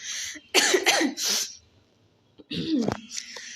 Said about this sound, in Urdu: یار عجیب کھانسی ہے